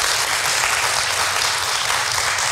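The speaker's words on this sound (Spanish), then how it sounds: "Le damos un aplauso con todo cariño a Nilda" Warm audience applause at a talk about freeing oneself from guilt, a dense, even wash of many hands clapping for the full stretch, loud and continuous with no voices over it.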